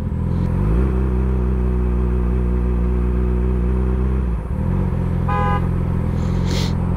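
A car horn gives a short honk over a loud, steady engine rumble, as if heard from inside a moving vehicle.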